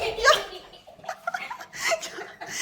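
A small dog indoors in a house gives a few short, high yips amid people talking and laughing nearby.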